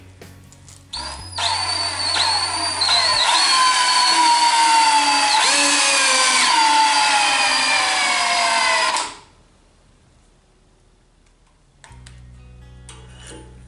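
Stainless steel wire twists in a jig, driven by a loud, close, whining motor whose pitch slides as it spins for about eight seconds before cutting out, followed by quiet and a few faint clicks.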